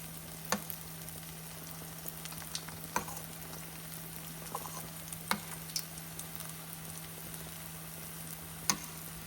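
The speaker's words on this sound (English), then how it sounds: "You can see it's frying in a very low flame." Dahi vada lentil dumplings, about mini-donut size, frying in oil over a very low flame, giving a soft steady sizzle with scattered small pops and crackles, a low constant hum underneath.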